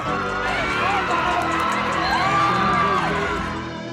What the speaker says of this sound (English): And look at them cheer.